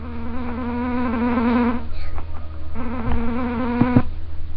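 Mosquitoes buzzing in a bat-themed video game: a steady, close, whining insect drone with wavering pitch, briefly broken near the middle before resuming, with no voices.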